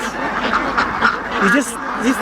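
Ducks quack in short nasal bursts on a large free-range duck farm, several calls overlapping nearby while a person talks underneath.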